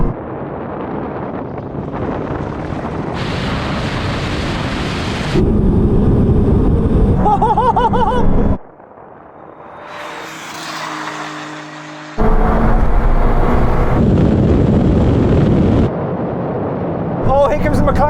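A Ferrari 296 GTB, McLaren 765LT and Porsche GT2 RS launching in a drag race, with loud engine roars, wind buffeting and abrupt bursts of noise, interrupted by a quieter stretch, and talk heard in between.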